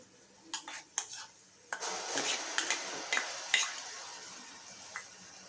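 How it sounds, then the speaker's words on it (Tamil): Garlic paste being stirred into fried onions in a pan for Ambur chicken biryani, with a sharp clack of utensil on metal followed by steady scraping and soft sizzling, fairly close and alone. "இதை இப்போ ரெண்டு நிமிஷம் நல்லா மிக்ஸ் பண்ணிக்கலாம்"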